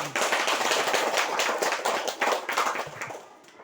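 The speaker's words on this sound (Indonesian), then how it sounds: "Kita berikan tepuk tangan yang meriah." Audience applause at a school gathering honouring the newly elected chairman of the school committee at SMP Swasta Donamar; steady dense clapping from many hands throughout, tapering slightly at the end.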